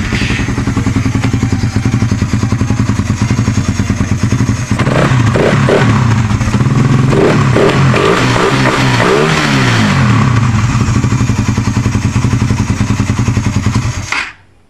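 A Suzuki Raider Fi street motorcycle with its airbox removed revs loudly at close range, its engine note climbing and falling through repeated throttle blips before shutting off abruptly.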